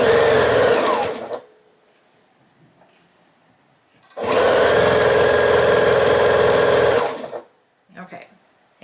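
A sewing machine stitches together sections of a quilt star block in two loud, steady runs of about a second and three seconds, separated by quiet with faint handling noise and a short burst at the end.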